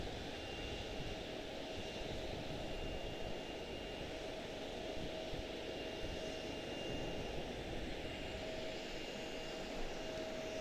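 At Charlotte Douglas airport, a Boeing 737 MAX 8 gives a quiet, far-off steady engine drone carrying thin whining tones, continuous and even, with no talking.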